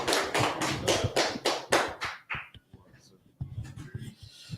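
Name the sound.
audience clapping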